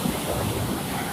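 Sea waves wash against a rocky beach with boats nearby, a steady loud roar of surf mixed with wind buffeting the microphone, with no pauses.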